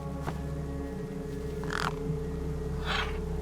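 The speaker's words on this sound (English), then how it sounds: "No way I was going to get between those birds and their feast." Crows caw over a feast in the video game Beyond a Steel Sky, three separate harsh caws spaced about a second apart, moderately loud over a steady low hum.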